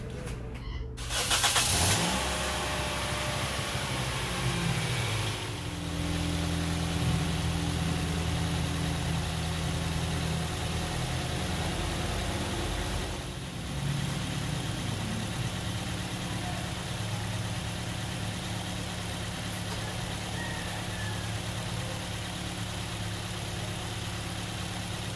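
A Toyota Vios engine idles steadily while warming up after a coolant change. It starts with a brief rev, then settles into a constant mid-pitched drone that runs close and alone for the whole stretch.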